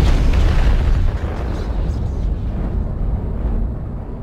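Mech torso blowing apart in the MechWarrior Online game: a loud, dense explosion with a heavy low-end rumble that dies down after about a second into a long, rolling roar.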